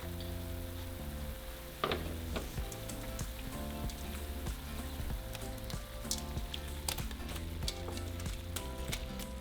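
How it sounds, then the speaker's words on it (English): Shrimp frying in a garlic sauce with lemon crackle and spit in a light, rain-like sizzle, with scattered sharper pops, all under steady background music. "So now we're just going to cook our shrimp until they turn into a beautiful salmon color."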